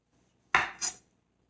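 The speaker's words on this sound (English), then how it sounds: "I'm going to go ahead and just square off the ends of these tomatoes" A kitchen knife slices the end off a tomato on a cutting board, two quick close knocks of the blade against the board in an otherwise quiet room.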